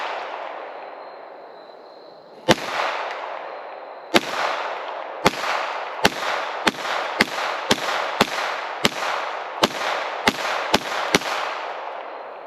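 A .22 LR Chiappa M4 rifle and KelTec P17 pistol fire tracer rounds in a rapid string of about fourteen sharp, loud reports, with a quick irregular rhythm after one opening shot and a pause.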